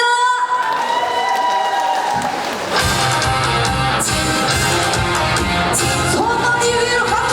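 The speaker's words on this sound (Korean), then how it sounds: "손머리 위로 박수 쳐주실게요." Audience at a Sabuk coal culture festival in Jeongseon applauds and cheers over loud live music as a singer finishes her set, the crowd noise swelling steadily throughout.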